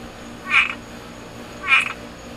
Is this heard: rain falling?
no